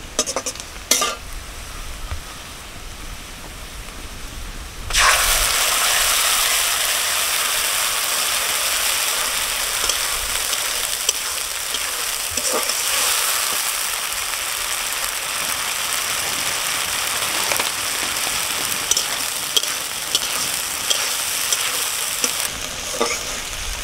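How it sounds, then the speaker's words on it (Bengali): Spice paste starts sizzling in a pan over low heat after the onions have been fried. The steady frying hiss begins abruptly after a quieter stretch, and occasional clicks and scrapes of stirring break through it. "আমি এখন অল্প অল্প জাল দিয়ে মশলাটা কষিয়ে নিই।"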